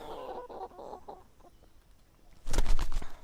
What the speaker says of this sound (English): This is one of our sweetest chickens.